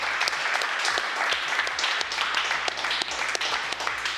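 A crowd at a digital marketing agencies awards show breaks into dense, lively applause that stays loud and even for a few seconds, with a low hum underneath.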